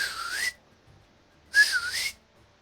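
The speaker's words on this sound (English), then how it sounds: "You then hear a loud whistle." A person gives two loud whistles, each about half a second long with a bending, rising-then-falling pitch, separated by a short silent gap.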